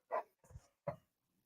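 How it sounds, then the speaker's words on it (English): A dog snaps out three short barks in quick succession during a live stream, moderately close and fairly quiet, with brief silences between and no talking. "Her dog's snapping."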